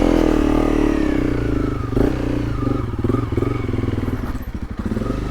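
Motorcycle engine pulling away on a hill start, close and loud, lumpy throbbing with rough revving pulses and clattering mechanical chatter as it labours forward.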